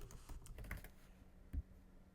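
Rapid keystrokes on a computer keyboard, typing in initials while setting up lettering in a Varsity font for a heat transfer vinyl design; soft, close clicks with a sharper tap near the end, no voices.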